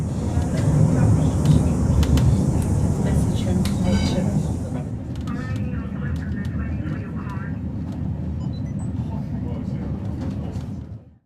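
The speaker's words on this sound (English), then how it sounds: "We're back in the cable car now, about to descend." Wellington cable car in New Zealand descending the hill, a steady loud rumble of the car rolling on its track with rattling and a brief high hiss early on, continuous throughout and fading at the end.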